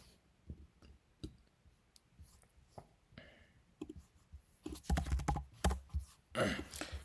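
Mouse clicks sound as someone signs up for an account on a website. The clicks are sparse and quiet at first, then louder clustered clicks and handling noise come near the end, with no speech.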